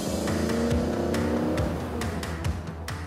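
Porsche 914 mid-mounted flat-four engine revving hard up close, a loud, raspy, continuous roar with rising and falling pitch as the throttle is worked.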